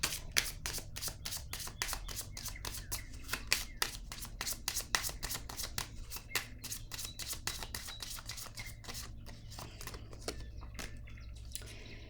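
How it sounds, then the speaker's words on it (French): Oracle cards are shuffled and drawn by hand, a rapid run of crisp, close snapping flicks that slows and thins toward the end, quiet and with no speech. "Je vais piger une carte sur le voleur."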